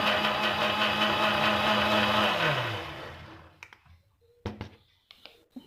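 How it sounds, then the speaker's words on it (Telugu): A kitchen mixer grinder whirs loudly as it churns milk cream for homemade ghee, then winds down after about three seconds, followed by a few sharp clicks and taps. "ఇప్పుడు దీన్ని ఒక వన్ మినిట్ వరకు మిక్సీలో తిప్పేయాలి"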